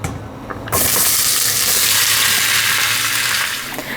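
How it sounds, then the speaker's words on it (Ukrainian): A sudden loud sizzle erupts as potatoes hit a hot 24 cm Metro Professional steel pan, then settles into steady, hissing frying that fades slightly toward the end. "тепер висипаємо нашу картоплю. Буде смажитись картопля."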